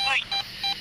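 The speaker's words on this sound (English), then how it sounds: "Can you make it stop beeping?" An electronic ghost-hunting gadget sounds repeated short beeps, a strong high tone followed by two quieter pulses in a loose rhythm, close by and alone.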